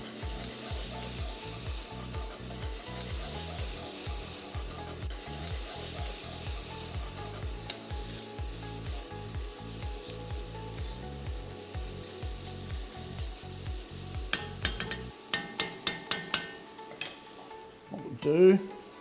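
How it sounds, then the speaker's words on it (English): Leeks and broccoli sizzling in a pot while being stirred, a steady frying hiss broken by rhythmic scraping strokes, then a few sharp knocks near the end. "Better give this a stir. Getting some nice colour on there."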